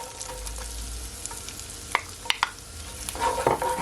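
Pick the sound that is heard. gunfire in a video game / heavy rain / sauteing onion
sauteing onion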